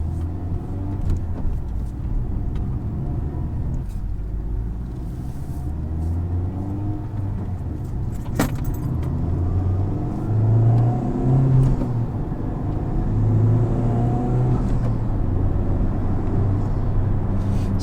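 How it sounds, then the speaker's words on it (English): Honda Civic Type R FK8 with a 4-cylinder turbo engine cruising on the road, a low steady rumble and road whir that swells slightly midway, interior perspective, fairly quiet and with no talking. "Also hear that how quiet the car is for the power that it makes."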